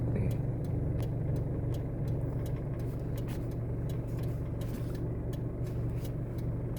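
Stalled traffic on a flooded road near a boat launch point: a steady low idling engine rumble from cars and trucks close by, with faint clicks and brief higher noises over it.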